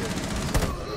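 Video game gunfire, a fast dense burst of shots with one louder crack partway through, loud and close over steady background noise.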